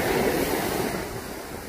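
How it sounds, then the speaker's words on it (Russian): Rough, restless sea waves crash and wash in a steady, loud roar along the Turkish coast, with wind noise buffeting the microphone and no voices. "Какое беспокойное море!"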